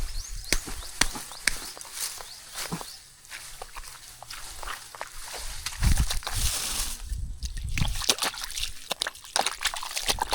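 Water drains from a planted rice field, trickling and sloshing nearby, with wading or footstep splashes throughout and a few sharp clicks.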